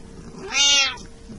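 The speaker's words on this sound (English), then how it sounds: "That's my cat, sorry." A house cat lets out one loud, drawn-out meow, close by and clear over a quiet room.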